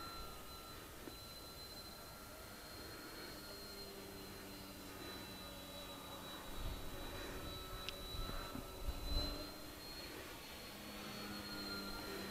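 A faint high-pitched whine of a small Be-12 model airplane motor hums steadily in the distance as it flies overhead, with soft outdoor noise and a few brief rustles.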